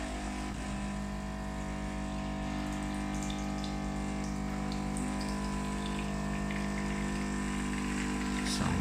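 A Bosch automatic coffee machine dispenses water in a steady, continuous stream with a low pump hum, holding an even level from start to finish with no voices over it.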